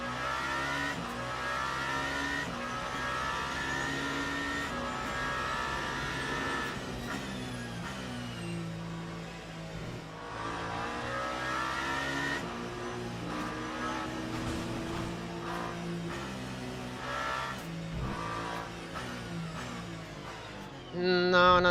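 A GT3 race car engine drones and revs continuously at Imola in a racing video game, with gear-shift dips and a spin-out, loud and steady throughout with a sharp burst at the end.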